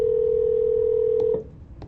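A telephone call is placed, with a single steady electronic tone held for over a second before cutting off, followed by a few soft clicks and quiet line noise.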